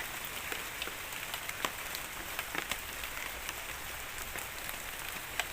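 Steady, soft rainfall with scattered distinct drops tapping on a surface, continuous throughout with no voices.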